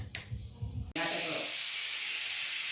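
A pressure cooker boiling pigeon peas vents steam in a loud, steady hiss that starts abruptly and holds without a break, after a short stretch of quieter kitchen sounds.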